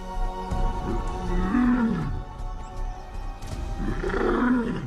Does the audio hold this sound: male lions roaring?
yes